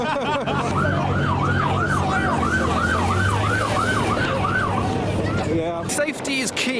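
A fire engine siren at a car show, where a burnout set off the fire alarm, wails loudly in about ten rapid rising-and-falling cycles over steady engine and crowd rumble, then cuts off near the end.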